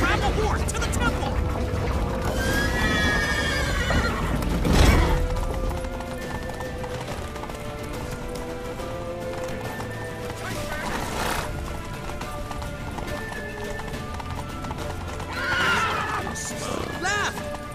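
Horses in The Witcher 3: Wild Hunt neigh and whinny with clip-clopping hooves galloping throughout, loud and steady under shouted character dialogue and game music.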